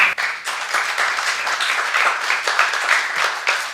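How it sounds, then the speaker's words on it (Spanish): Steady applause from an evening conference audience fills the room for several seconds, dense overlapping claps at moderate loudness with no talking. "un aplauso, por favor"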